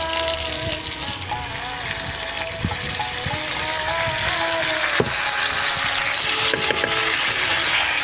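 Potatoes fry in a pan as tomato, green chilli paste and ginger paste go in, making a loud continuous hiss and bubbling sizzle with a few clinks and scrapes throughout.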